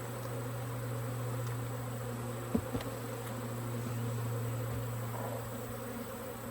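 Honeybees on the wall of a nuc box give off a faint, steady low buzz that drones on without a break, with a couple of soft knocks and no voices.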